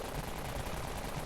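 A very rapid, dense burst of gunfire from a pocket cannon in the video game Dead Frontier, continuous and rattling like a machine gun, fairly faint and without voices.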